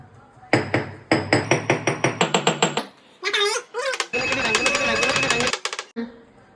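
Spice paste ingredients for biryani are pounded by hand, sharp close knocks in quick repeated bursts with short pauses between runs, no talk.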